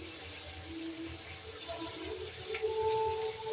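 Water pouring into a pan for dry chilli chicken, a steady, fairly loud stream running for a few seconds without pause.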